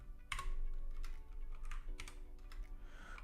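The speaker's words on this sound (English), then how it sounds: "let me quickly type the correct one" A command typed on a computer keyboard, a quick run of close key clicks starting with a loud tap, followed by softer scattered presses.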